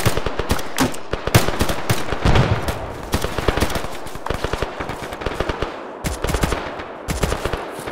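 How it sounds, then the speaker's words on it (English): Sustained bursts of machine-gun fire lay down suppressing cover during an infantry operation, rapid loud volleys repeating close by for the whole stretch with brief pauses. "Warlords, keep that suppressor fire up."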